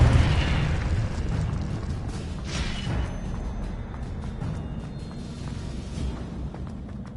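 A Confringo explosive spell from Hogwarts Legacy goes off with a sharp boom at the start, then a second burst and a long, fading rumbling tail of debris and ambience, moderately quiet overall.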